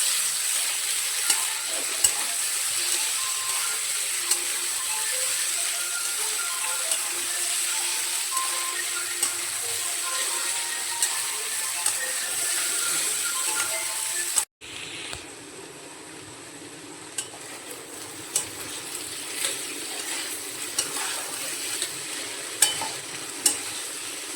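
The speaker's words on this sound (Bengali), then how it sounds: "এবার রসুন পেঁয়াজের কাঁচা গন্ধ যাওয়া পর্যন্ত এগুলোকে ভেজে নেব ভালো করে" Onion and garlic fry in a pan for a fish curry, a steady broadband sizzle with occasional stirring clicks; the sizzle drops abruptly partway through and continues quieter, close and without talk.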